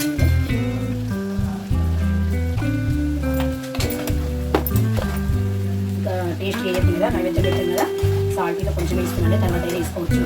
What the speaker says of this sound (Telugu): మటన్ కూడా నూనెలో మంచిగా పోయిందండి